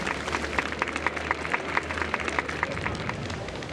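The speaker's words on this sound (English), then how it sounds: "We invite you to express your warmest applause and deepest appreciation for OT Alfalfa, head of the Alfalfa family" A festival crowd in the video game Honkai: Star Rail gives steady applause, a continuous wash of many hands clapping over a low background hum, fairly distant and even throughout.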